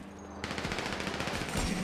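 Gunfire erupts after a short quiet pause, a dense rapid burst of close, loud shots rattling on steadily for over a second like a volley fired on command.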